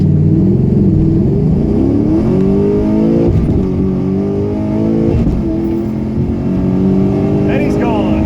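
A V8 race car on a track roars past, its engine note climbing loud and close as it pulls away, while someone talks over the noise.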